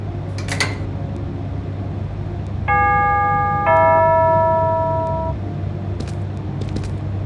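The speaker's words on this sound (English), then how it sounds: "Someone's ringing the bell at the outside gate." Doorbell at an outside gate in a video game, sounding as a bright electronic chime of two tones, the second overlapping the first and ringing out for about two seconds over a steady low hum.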